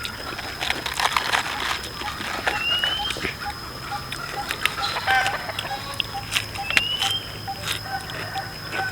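Chickens cluck intermittently amid a busy outdoor background of scattered taps and rustling in a rice field, with a steady high whine running throughout.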